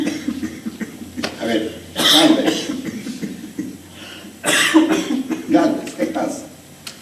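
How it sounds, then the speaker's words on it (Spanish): A person coughs in a few harsh bursts, mixed with throat clearing and a bit of chuckling, close and fairly loud, with a short spoken phrase in between. "El doctor me dijo que la tos se me iba a quitar en unos cuantos días"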